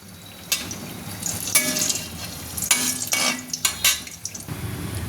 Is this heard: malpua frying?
yes